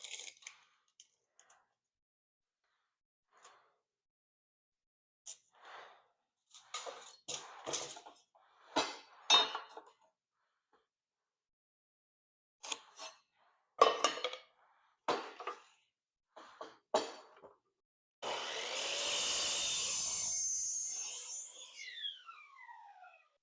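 A wooden board for a hive stand is cut by a power saw: quiet clinks and handling noises, then one loud whining cut of about three seconds that winds down afterward.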